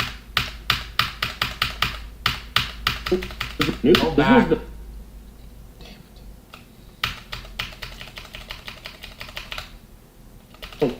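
Rapid clicking keystrokes on a computer keyboard come in quick bursts, pausing briefly while someone speaks and then resuming with another run of close, crisp taps.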